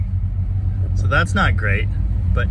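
A 1965 Chrysler 300L engine idles with a steady low rumble and throb, its air conditioning switched on, while someone talks briefly over it.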